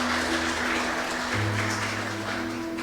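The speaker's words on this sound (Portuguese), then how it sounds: "Você pode dar uma forte salva de palmas nessa palavra, meus amados?" A church congregation claps in strong, steady applause, a dense continuous patter that fills the room from start to finish, with a low hum underneath.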